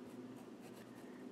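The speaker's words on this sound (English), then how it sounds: "we're using pastels, so we can rub this into the paper" Soft pastel being rubbed into paper, a faint continuous dry scratchy rubbing with gentle back-and-forth strokes, close and quiet with no voices.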